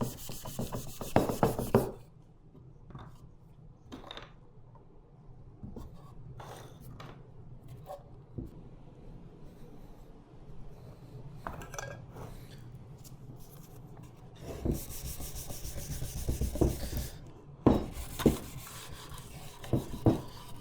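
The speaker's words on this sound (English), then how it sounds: "we're just going to give it a light sanding with some 320 sandpaper" A wooden card box gets a light hand sanding with 320-grit sandpaper, soft raspy rubbing strokes in short bursts, quiet and close, with brief handling noises between passes.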